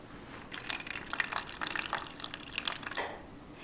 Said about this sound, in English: So I'm going to take some water and pour that in.